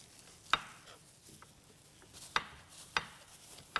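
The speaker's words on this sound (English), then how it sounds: "Why she still keep on chopping vegetables?" Vegetables being chopped for a cheesy Indomie noodle dish, a few sharp knife strikes on a board spaced irregularly, fairly close and alone over quiet kitchen background.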